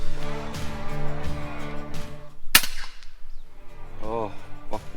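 A sharp airgun shot from an FX Maverick or FX Impact M3 air rifle firing slugs at geese during pest control outdoors, a single crisp crack near the middle against steady outdoor background.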